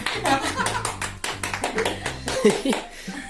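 Hands clap in a quick, steady rhythm at a surprise birthday celebration for a wife, close and lively, with a voice and adult talking mixed in among the claps.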